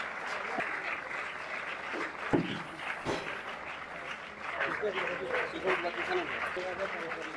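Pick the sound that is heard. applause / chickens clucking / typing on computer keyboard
applause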